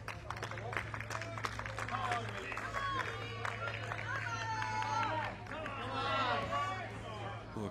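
Tennis crowd at a tie-break in a Marcus Willis versus Malek Jaziri match, applauding and cheering for Willis; steady clapping and crowd noise through the whole stretch, with scattered voices and a low constant hum underneath.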